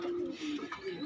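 A pet pigeon gives a short, close, low cooing call, a soft throaty warble held for about a second.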